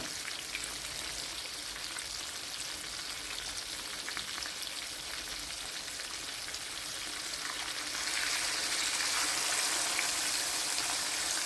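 Fish fries in a pan alongside crushed, marinated garlic, giving a steady crackling sizzle that grows noticeably louder and brighter toward the end, with no voices.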